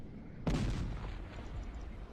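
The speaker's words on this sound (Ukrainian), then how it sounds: "Так, по нам вже починає гармату лупити" In the strategy game Cossacks: Art of War, set at the battle of Prague, a single loud cannon shot booms out and then trails off into a rumbling echo against quiet background noise.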